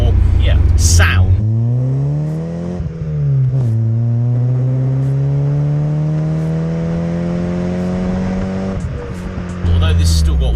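A 2001–2005 MG ZR+ 1.8 160bhp engine revs close by, its deep exhaust note climbing and dropping through several throttle blips before settling into a rising, sustained drone.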